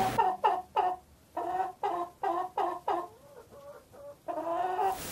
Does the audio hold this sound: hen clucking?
yes